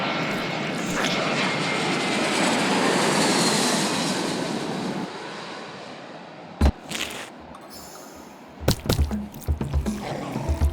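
In a video game, an airplane engine drones loud and steady as the plane climbs after takeoff, then cuts off abruptly and gives way to scattered thuds and clatter.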